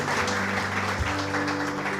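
Congregation applauding in church, a dense steady wash of clapping lasting about two seconds, loud and continuous with no speech over it.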